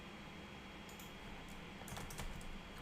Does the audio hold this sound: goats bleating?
no